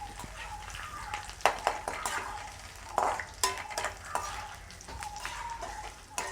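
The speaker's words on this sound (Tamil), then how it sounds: "கருவேப்பமிலையை போட்டு பொரிச்சு எடுத்துடுவோம்" Curry leaves sizzle and crackle in hot oil, with scattered sharp pops and the occasional scrape of a spoon stirring the pan.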